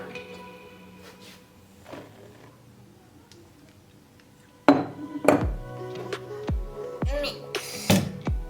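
Cupcake batter and flour are mixed in a bowl, heard as clinking and tapping at first, then a run of loud, sharp utensil strikes against the bowl in the second half, with a voice talking in between.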